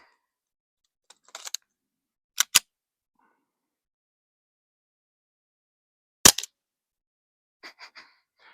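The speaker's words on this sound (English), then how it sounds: "I can hear the bolt coming back and clicking" Sharp metallic clicks in small clusters break an otherwise silent stretch, a few crisp snaps close by, then a softer series of light clacks near the end, from a jammed suppressed Ruger Mark IV pistol's bolt cycling.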